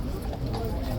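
Police horses walking on pavement at a busy morning guard scene, a quick run of close hoof clip-clops over crowd and street noise, with voices mixed in.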